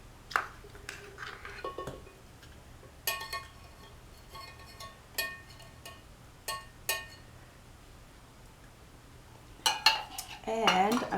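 Sugar is mixed with warm melted butter in a bowl, heard as intermittent scraping and clinking of a utensil against the bowl in short bursts separated by quieter pauses, close and moderately loud.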